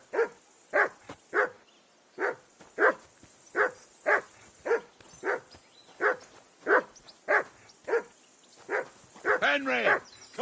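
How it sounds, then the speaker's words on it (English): A dog barks near and loud in a rhythmic series of about fifteen sharp woofs, ending in a more excited, whining flurry of barks. "Henry, call off that damn dog before he wolfs down the last of our mates"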